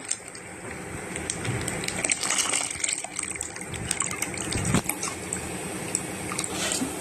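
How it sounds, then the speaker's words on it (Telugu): Half a liter of milk poured into a pot of semiya payasam, a steady liquid gush and splash running continuously at close range, with no talking. "ఇంకొక హాఫ్ లీటర్ పాలు ఉన్నాయి కదా అవి యాడ్ చేసేసుకోవాలి"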